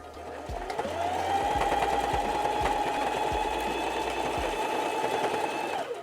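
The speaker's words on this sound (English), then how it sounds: "That is it for the machine sewing part." A sewing machine runs in one continuous, close, loud burst for several seconds, its motor whirring steadily as it stitches altered infant clothing for a puppet, then winds down at the end.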